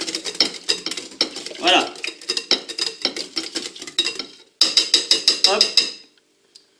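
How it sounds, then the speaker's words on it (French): Whisk stirring red cabbage mousse in a bowl, a fast steady run of light metallic clicks and scrapes against the bowl, close and fairly loud, pausing briefly before a final burst, with a short spoken word. "Et on mélange tout ça."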